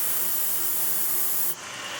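Foaming lubricant is sprayed from an aerosol can into the stuck engine of a John Deere snowmobile, a loud, close, continuous hiss that eases off slightly near the end.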